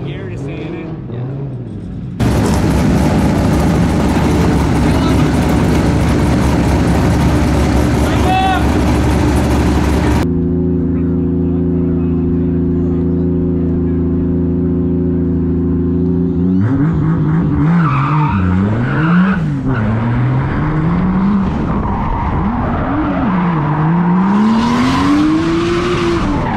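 Four cars drifting in close tandem at a burnyard event, including a 2JZ-swapped Mustang, giving a sustained loud roar of engines and screeching tires, with revving pitch sweeps near the end.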